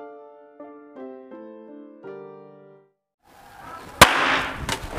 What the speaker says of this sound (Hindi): साइड पर जब यार इतनी जोर से पटाखा मारा